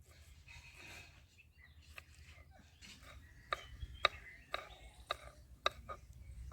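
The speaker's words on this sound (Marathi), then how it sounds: "10 ते 12 हिरव्या मिरच्या मी इथं चिरून घेत आहे।" A knife chopping 10 to 12 green chillies on a board outdoors in a mango orchard beside a wood-fired clay stove: about half a dozen crisp, irregular cuts with a few softer taps, over a faint low background hum.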